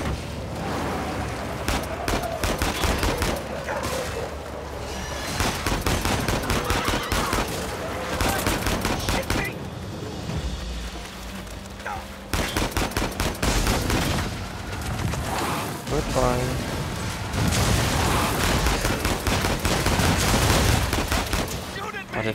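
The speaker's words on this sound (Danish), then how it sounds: "Det er da godt, der er evig skud her" Rapid bursts of video game gunfire from Uncharted 4 A Thief's End, loud and nearly continuous, with overlapping volleys and heavy shots that keep up throughout.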